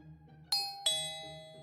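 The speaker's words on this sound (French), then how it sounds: "Le son de la sonnette interrompit mes pensées, de plus en plus effrénées." A doorbell chimes with two bright, ringing tones in quick succession, each struck sharply and left to decay over a soft background musical bed.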